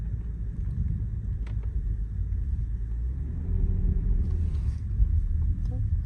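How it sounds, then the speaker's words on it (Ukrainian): A 2019 Lexus RX-350 crossover creeps slowly out of a rut, giving a steady low engine and tyre rumble that swells slightly partway through, with light wind buffeting on the microphone and no talking. "заїдемо так на невеличкій швидкості, подивимося, як вона з колейки виїжджає і чи є пробуксовка"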